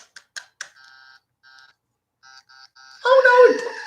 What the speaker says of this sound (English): Oh, no, it beeped.